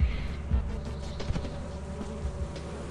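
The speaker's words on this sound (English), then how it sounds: "Do we grab the bees?" Bees buzz in the Lethal Company video game, a faint, continuous drone with small swells, and no talking over it.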